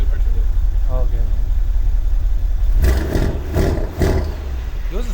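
An AMG car engine with straight-pipe exhaust idles under people talking, then roars through a few sharp revs up close before settling back down.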